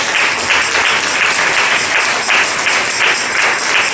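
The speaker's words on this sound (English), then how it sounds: "Now clap your hands and give God praise." A church congregation claps hands in steady rhythm, a dense and loud burst of applause-like clapping with a regular pulse and no talk over it.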